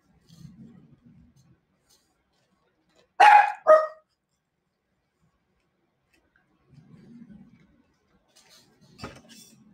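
Two sharp dog barks in quick succession at someone with a push cart passing the door, moderately loud, with quiet indistinct murmuring before and after.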